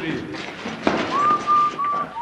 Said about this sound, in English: Horthy's chief of police whistled Beethoven's Fifth while beating up long-haired men